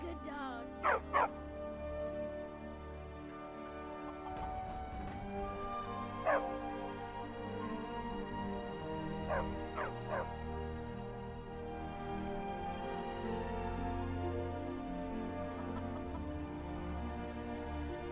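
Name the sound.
dog barking in video game Skyrim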